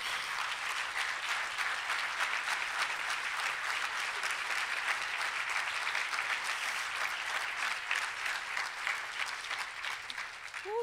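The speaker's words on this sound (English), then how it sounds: "So please join me in giving these women another round of applause." An audience gives a steady round of applause honoring a group of women, dense and even clapping that holds at moderate level throughout without pause, a faint voice surfacing near the end.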